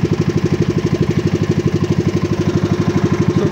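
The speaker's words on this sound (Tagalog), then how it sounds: "So Brad, pwede pakipatay yung makina mo." A motorcycle engine idling close by on Burias Island, a steady, even putter of rapid regular pulses holding for several seconds with no voices over it.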